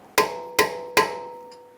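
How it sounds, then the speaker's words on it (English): Three sharp metallic hammer strikes on a punch, staking the front axle nut of a 2013-2017 Honda Accord, evenly spaced and close, each ringing briefly before fading. "Using a punch and a hammer, we're going to stake the axle nut."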